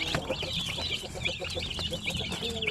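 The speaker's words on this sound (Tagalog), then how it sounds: "Ang dami nating sisiw kapag incubator gamit." Crowd of incubator-hatched chicks peeping continuously in high, overlapping chirps, close and steady throughout, with other farm fowl clucking faintly underneath.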